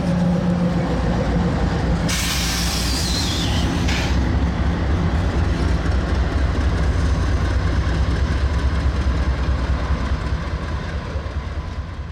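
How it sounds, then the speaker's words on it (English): NS hopper freight train doubling out of a yard in Kingsport, Tennessee on tracks about 25 feet away, a loud continuous rumble with rhythmic clickety-clack of passing cars and a brief high squeal of wheels. "an NS hopper train was doubling out of his yard on tracks about 25 feet in front of our"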